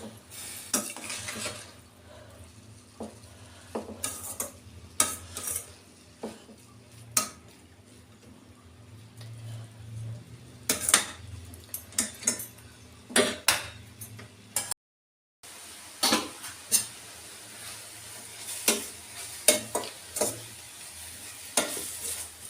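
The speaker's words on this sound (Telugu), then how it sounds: "ఇది మెల్లిగా అలా లో ఫ్లేమ్లోనే ఇలా వేయించుకుంటాము." Grated bottle gourd for halwa frying slowly in a pan over a low flame, with a soft steady sizzle and intermittent clinks and scrapes of a spoon against the pan, close and fairly quiet.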